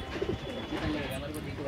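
Pigeons coo softly in the background, gentle low gurgling calls from a pair of kalsara pigeons, partly under a voice.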